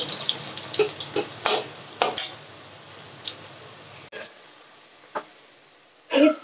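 Potato pieces frying in a pan as they are stirred, irregular scraping and clattering bursts over a soft background sizzle, with quieter gaps between strokes.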